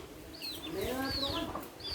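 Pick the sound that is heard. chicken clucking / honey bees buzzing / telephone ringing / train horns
chicken clucking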